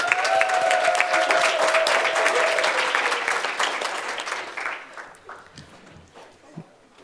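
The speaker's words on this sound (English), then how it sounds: "Senators, please stand and join in a round of applause" Student senators standing and applauding an honoured emeritus chairperson, a sustained round of clapping in a chamber that tapers off after about five seconds into scattered claps and quiet.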